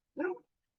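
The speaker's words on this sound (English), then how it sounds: "She's got such a big bark." A single big, deep bark from a dog, close and loud, one short burst lasting under half a second and then silence.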